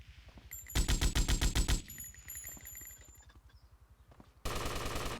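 M60 machine guns fire in a video game, with loud rapid bursts that come in two separate volleys, thinner clicking and electronic tones between them, and game sounds ticking steadily underneath.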